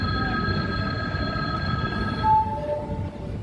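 The Pandharpur–Tirupati special express with ICF coaches pulls out of Pandharpur station, a low rolling rumble with thin sustained whining tones that fade midway.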